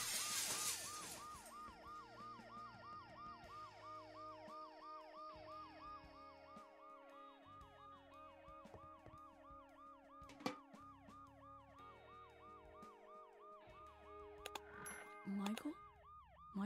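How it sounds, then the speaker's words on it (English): An ambulance siren from the video game Dead Synchronicity wails in a steady, repeating rising-and-falling pattern, continuous and prominent over a low background tone, with a few sharp knocks near the end. "The noise the ambulance makes will cover the sound of the glass breaking."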